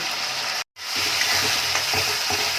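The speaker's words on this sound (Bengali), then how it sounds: "মাংসটাকে একটুখানি আমরা কষিয়ে নিচ্ছি" Mutton sizzling and being sautéed with chili powder and Kashmiri chili in a pan, a steady close hiss of frying with a brief dropout early, then soft stirring scrapes repeating under the sizzle.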